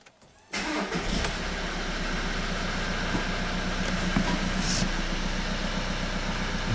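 A VW Golf 7 1.6 TDI diesel fires up right after a timing belt replacement, catching at once from silence and settling into a steady, close, clattering idle.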